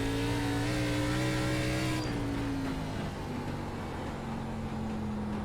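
Simulated ARCA Menards Series stock car engine in iRacing at USA International, a steady loud drone that shifts pitch at a gear change, held near and alone with no talk.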